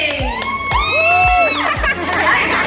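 A crowd at a basketball league opening shouts and cheers for a team. It is a loud, close burst of whoops and yells, with children's voices among them, rising and falling over a few seconds.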